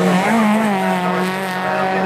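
Race cars brake into the Mountain corner at Cadwell Park, engines loud and close with falling and rising pitch as a tightly bunched group of several cars downshifts and accelerates through.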